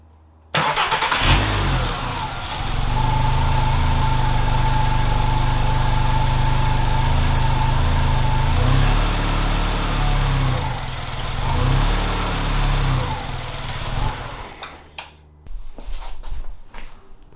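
A Volkswagen Rabbit under restoration cranks and starts, then idles loudly and unevenly up close, its drone wavering and sagging before the engine stumbles and dies near the end.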